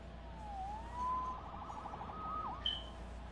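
A synthetic siren wails in a few rising and falling sweeps over a steady low hum, followed by a short high electronic tone.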